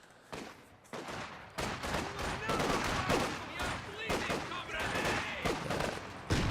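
Rapid gunfire in a skirmish from the strategy game Company of Heroes 2 on the Fields of Winnekendonk map, dense crackling bursts and overlapping shots firing almost continuously at close range.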